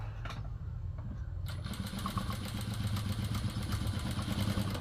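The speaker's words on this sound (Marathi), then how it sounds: "तर या पद्धतीने अशी चुनी मारायला सुरुवात करू आपण" A sewing machine runs steadily, stitching gathered pleats into a Gopi-style sleeve, its rapid mechanical clatter starting softly and then settling into a continuous close whirring hum.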